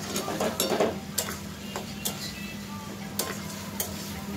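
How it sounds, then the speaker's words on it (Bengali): Potatoes with spices being sautéed in a pan for a jackfruit and prawn dish, with a steady sizzle under repeated scraping and stirring clicks of a spoon against the pan. "আলুটা ভালো করে কষিয়ে নেব মশলার সাথে"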